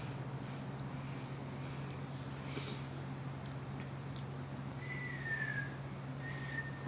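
Someone attempts to whistle, producing a couple of faint, breathy short whistle tones over a steady low background hum.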